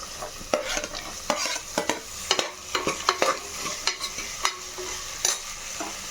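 Carrots fry and are stirred in a pan of oil and ghee for palak menthe pulao, giving a steady close sizzle broken by frequent sharp scraping clicks of the spoon against the pan.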